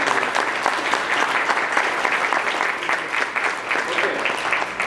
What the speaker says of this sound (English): One more big round of applause for all of our participants.